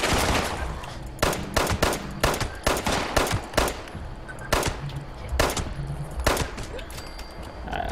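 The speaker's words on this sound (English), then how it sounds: "Oh shit, I'm getting shot at." Loud rapid bursts of gunfire in Fallout 76, repeated volleys of sharp shots in quick clusters with brief gaps, close and dominant throughout.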